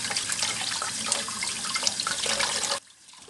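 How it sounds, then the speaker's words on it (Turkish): Tap water runs steadily and fairly loud while whole gilt-head sea bream are rinsed in a kitchen sink before baking with vegetables, then cuts off abruptly near the end, leaving quiet. "Önce balıklarımızı güzelce yıkayalım."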